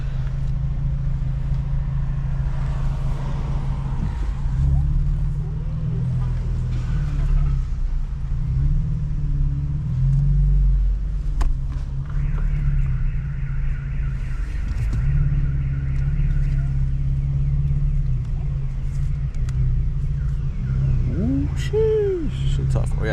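A 2014 Chevrolet Camaro V6 with a muffler delete driving at night, a steady low droning exhaust rumble with mild swells throughout, heard from inside the car, with people talking over it.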